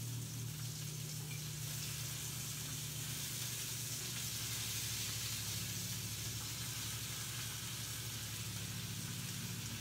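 Homemade Pamplona-style chorizo seasoned with Spanish paprika sizzles steadily in a pan, a continuous dense crackling hiss with a low hum underneath, close and even throughout with no talking.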